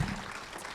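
Audience at a film Q&A applauding, a short burst of dense clapping that starts loud and tapers slightly.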